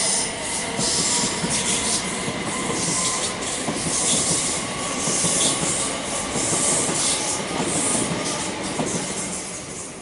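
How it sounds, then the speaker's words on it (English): A Class 387 Electrostar electric train rumbles past continuously at Chalkwell, with rail hiss, squealing wheels and a steady clattering roar throughout. "That train is a class 387 Electrostar."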